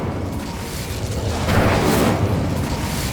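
Incendio fire spell cast in Hogwarts Legacy: a broad, roaring whoosh of flame swells midway through and holds as a dense, rumbling burst over a constant noisy background, with no talk.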